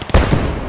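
A smoke grenade bursting in the World War II shooter Post Scriptum, a sudden loud thump that gives way to a sustained hissing rush of released smoke, close by.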